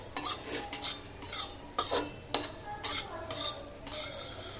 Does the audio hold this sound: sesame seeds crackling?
yes